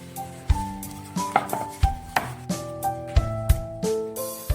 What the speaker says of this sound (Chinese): 再取出擀面杖，给它擀薄擀大